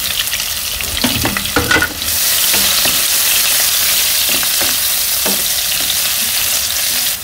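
Chopped onions frying in oil with bay leaf for a village-style chicken curry, a few spatula scrapes and clinks at first, then a steady loud sizzle continuing alone.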